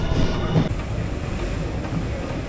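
A train at a station platform in Osaka, Japan, heard as a steady low rumble of rolling wagons close by, with faint rail clatter and a constant hum throughout, no voices.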